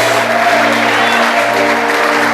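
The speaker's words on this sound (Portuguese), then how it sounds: "Se você está feliz, aplauda e glorifica o nome do Senhor Jesus" Loud, continuous applause from a church congregation during a sermon, dense and steady throughout with a faint background hum.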